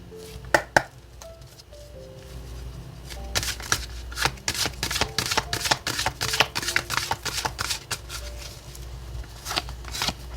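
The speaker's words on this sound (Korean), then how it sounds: "테마 카드를 3장 뽑아 볼게요" Tarot cards being shuffled and drawn by hand, a dense run of crisp riffling snaps and soft slides with a few sharper flicks as cards are laid down, close and fairly quiet with no talking.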